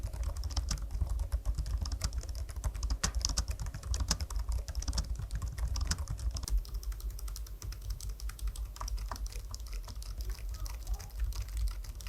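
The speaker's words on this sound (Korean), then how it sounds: "펜타그래프 방식의 키보드인데요. 키캡의 흔들림이 적어서 잡음도 딱히 느껴지지 않고" Soft, rapid typing on a Logitech POP Icon Keys scissor-switch keyboard with light muted clicks, continuous and close, over a faint background hiss.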